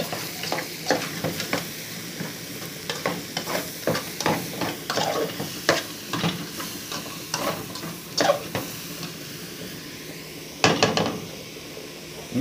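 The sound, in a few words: stirring food in a pan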